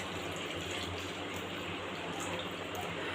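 Water poured from a glass into a pan of upma, a steady broadband gush of liquid running evenly through the whole stretch without pause.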